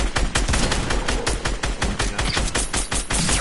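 Rapid automatic gunfire from the video game Fortnite rattles in a dense, loud, continuous burst with quick evenly spaced shots.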